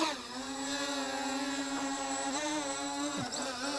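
A Wingsland M5 brushless GPS camera drone lifts off, its motors holding a loud, steady high-pitched whine with a brief dip in pitch near the end, close and with no talk over it.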